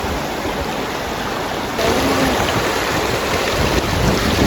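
Fast, forceful current of the Bhavani River rushing past, a steady broadband roar of flowing water close by that grows slightly louder partway through, with no talk.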